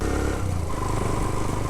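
A motorcycle rides through the grounds of the historic Mangla Fort in Azad Kashmir, its engine a steady close drone with slight revving and clatter throughout.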